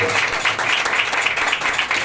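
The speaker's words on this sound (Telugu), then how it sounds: "అయ్యగారు నిలబడుతుండగా చప్పట్లు కూడా" Applause in a church gathering in a tribal area of Odisha as the chairman rises: steady, dense clapping from a crowd, continuous and fairly loud throughout.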